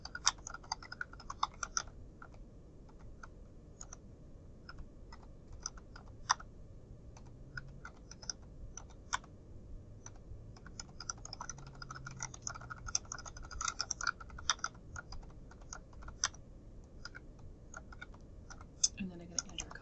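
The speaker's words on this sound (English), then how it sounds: "then I'm going to type the inside address" A computer keyboard typed on at a steady pace while keying a basic letter in Word, giving close, crisp clicks in quick bursts with short pauses, soft and unobtrusive in a quiet room.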